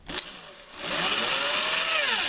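An electric drill bores a hole in a solar panel frame, whirring steadily at slow speed after a brief knock, a sustained near mechanical drone.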